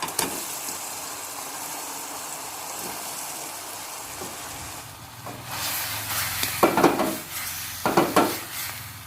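Prawns tipped into a thick simmering tamarind sauce in a pan for stir-frying, giving a steady close hiss and sizzle with bursts of louder spattering and stirring clatter toward the end.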